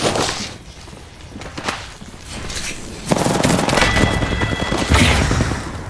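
R-301 rifle fire in an Apex Legends fight, loud rapid bursts growing into sustained automatic fire with heavy booms and scattered footsteps, dense and close.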